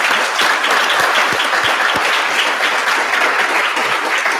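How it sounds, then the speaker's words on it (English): Applause for award nominees at a Law Day event, a steady round of clapping from a room full of people, loud and continuous for several seconds with no voices over it. "Let's have a round of applause for those nominees"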